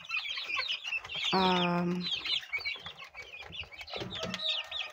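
Rhode Island Red, Australorp and decal chickens cluck and chirp nearby, with one louder drawn-out call in the middle and scattered bird calls throughout, while a voice speaks faintly underneath.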